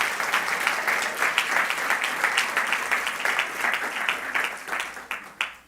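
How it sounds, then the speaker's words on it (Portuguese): A church congregation claps loudly and steadily for Jesus during a Portuguese-language sermon, a dense, close wash of hands with a few sharper claps breaking through near the end and no talk over it. "dê um aplauso forte para o Senhor Jesus"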